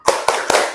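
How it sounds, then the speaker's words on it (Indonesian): A classroom group claps a rhythmic cheer together: three sharp, unified hand claps in quick, even succession, close and loud. "kita aplaus buat kalian semua"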